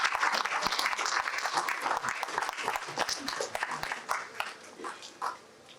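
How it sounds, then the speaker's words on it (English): A crowd at a toy-drive charity launch applauds wrestler Tiger Jeet Singh with sharp, dense clapping that thins out toward the end, with cheers and voices mixed in. "please give a round of applause to my hero"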